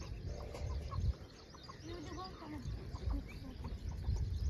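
Hens cluck softly nearby in short scattered calls inside a wire-mesh enclosure, mixed with faint outdoor background noise.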